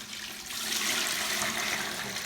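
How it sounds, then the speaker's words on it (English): Four liters of water pours into a melted hair conditioner mixture still on the fire, a continuous rushing, splashing pour that swells and holds at a fairly loud, close level. "I'm going to add my 4 liters of water to it"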